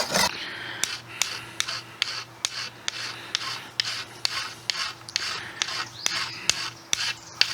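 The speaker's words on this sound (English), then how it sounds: "I'm just filing the end smooth and removing the burrs." A hand file rasps across the cut end of a metal piece to smooth it and remove burrs, a series of short, regular scraping strokes, close and fairly quiet.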